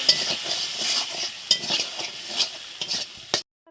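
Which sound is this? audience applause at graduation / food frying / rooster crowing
food frying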